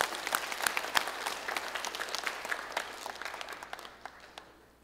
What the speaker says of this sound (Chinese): 我们掌声来欢迎他